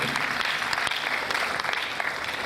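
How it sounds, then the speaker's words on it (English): An audience gives a round of applause, a steady, fairly close clatter of many hands with a few sharper claps standing out over the brief stretch. "Give yourself a round of applause"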